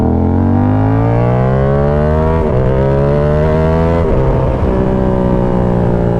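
A Yamaha R7 motorcycle fitted with an SC Project CR-T exhaust drones loud and close, its engine note climbing steadily through the gears with brief dips at each shift.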